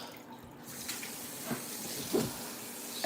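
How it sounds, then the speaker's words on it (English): Tap water running quietly into a robot's water tank, a soft continuous trickle with faint splashes, heard at low level with no talk. "I need to fill this up with water."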